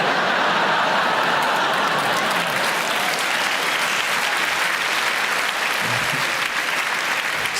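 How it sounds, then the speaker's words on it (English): Comedy crowd at a live stand-up show at the Apollo, laughter and clapping filling the room continuously and loudly, with a few chuckles rising out of the dense applause. "for the younger people laughing and clapping,"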